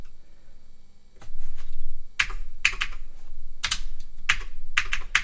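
Keys typed on a restored Commodore 128 keyboard, heard as sharp, clacky presses, some single and some in quick pairs, loud and close over a steady low machine hum, with no talk.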